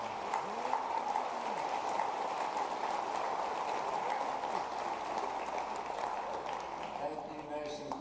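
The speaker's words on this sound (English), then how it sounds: "Let's give Nation a round of applause." A graduation ceremony audience applauds a speaker, a sustained wash of many hands clapping from a large crowd, steady throughout and beginning to thin near the close.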